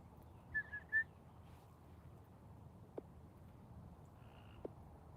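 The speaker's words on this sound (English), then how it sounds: "Can y'all hear the frog?" A frog croaking outdoors at night, two or three faint short chirping calls early on, followed by a couple of soft clicks against a quiet background.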